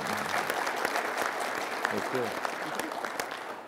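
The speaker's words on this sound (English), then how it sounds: "give them a round of applause" An audience at an aviation expo gives sustained applause, a dense steady clapping that fills the space, with a voice speaking briefly over it.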